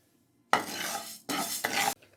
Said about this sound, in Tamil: அரிசியையும் கொஞ்சம் நேரம் செவக்க வந்து வறுத்துக்கோங்க